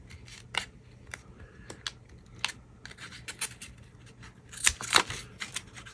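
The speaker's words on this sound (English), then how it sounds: "Cut that in half." Scissors snip through card stock for a handmade overalls-shaped card, several short crisp cuts at irregular intervals with a louder cluster of snips near the end, close and alone.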